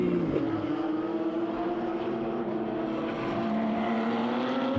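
Porsche GT3 Cup race cars circulate at the Spa circuit, their engines a steady loud drone that shifts pitch as the cars pass at a distance.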